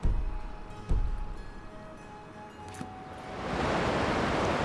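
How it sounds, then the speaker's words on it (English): Waterfalls and rapids in Skyrim give a rushing ambience: a soft, hissing water bed with a couple of faint clicks, then a swell into a loud, steady roar of falling water toward the end. "Waterfalls and rapids."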